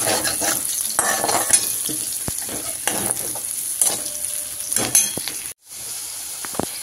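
Garlic and potato pieces fry in a pan with a sizzling crackle, punctuated by scraping stirs and light clinks of a utensil against the pan, briefly cutting out near the end; no speech.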